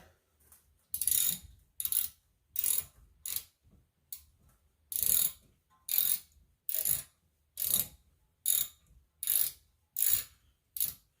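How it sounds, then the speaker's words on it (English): A ratchet wrench clicks in about a dozen steady bursts while tightening the rear brake bolts on a 2015 Chrysler Pacifica, close and fairly loud, with short pauses between strokes and no talk. "we'll just throw it back on the ratchet here. We will tighten this back up."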